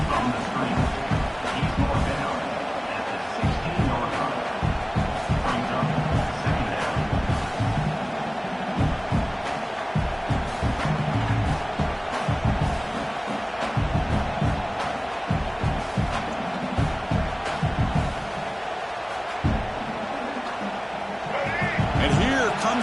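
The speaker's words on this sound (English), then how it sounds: "The noise. This crowd is trying to inspire this defense to make a big red zone stop." A large stadium crowd at a football game roars steadily throughout, trying to spur the defense to a red zone stop, with a commentator talking over the noise.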